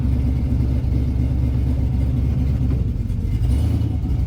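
A Pontiac Trans Am engine drones loudly and continuously up close as the clutch engages, a thick low rumble that rises slightly in revs toward the end.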